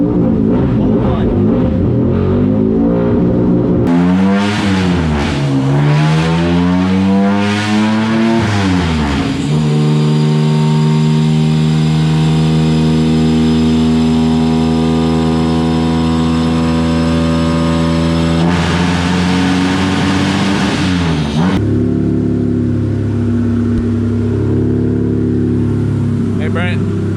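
A Honda V6 with CNC-ported heads revs on a dyno, loud and close. The engine climbs and falls in pitch through repeated pulls, then holds a sustained high rev before settling, with voices talking over it.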